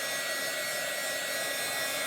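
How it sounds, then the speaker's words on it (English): Steady, loud whoosh of a heat gun or hair dryer blowing over crackle paint, a continuous airy roar with no pauses. "when you're using your heat gun or your hair dryer that you are moving this around"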